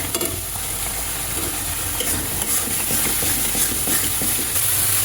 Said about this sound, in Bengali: তখন মশলাটা ভালো করে কষিয়ে নেব। তার সঙ্গে দেব টমেটো।